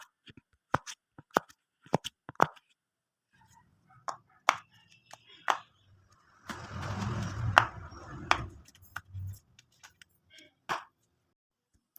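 Homemade pop-it fidget toy pressed bubble by bubble, sparse faint clicks and pops scattered with pauses, plus a short burst of rustling handling noise midway, close and quiet with no talking.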